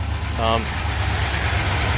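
A 1978 Chevrolet C10 pickup truck engine idles with a steady low rumble; its motor is smoking and burning oil. A brief tonal voice or sound cuts in near the start over the constant idle.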